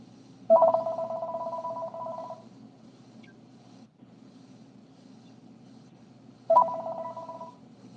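Telephone call to a shop: a ringback tone sounds twice, each steady purr lasting about two seconds and separated by roughly four seconds of quiet line hiss.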